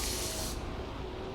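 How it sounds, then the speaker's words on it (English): A loud pressurised spray hisses as carried cargo is sprayed in the video game Death Stranding 2, a bright burst lasting about half a second before tapering into a softer hiss. "spray the stuff I'm carrying."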